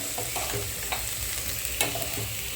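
Tomato puree sizzles in hot oil with frying garlic while being stirred, a steady crackling fry broken by soft scraping strokes of the spoon.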